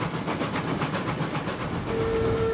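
A steam train in the video game Railroads Online rolls along with a steady rhythmic chuffing and rail rumble, a sustained whistle-like tone rising near the end, loud and close with no voices.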